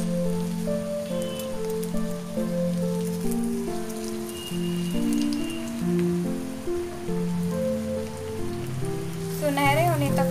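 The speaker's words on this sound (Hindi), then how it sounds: "इसको फ्राई कर देते हैं. ये स्लो फ्लेम पे हो रहा है" A bread snack frying in oil in a pan over a slow flame, a steady patter of crackling and sizzling throughout, with tonal background music running underneath.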